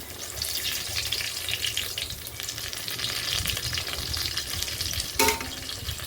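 Banana flower fritters (mochar bora) fry steadily in hot oil, a continuous close hiss and crackle running throughout, with a brief louder clatter near the end.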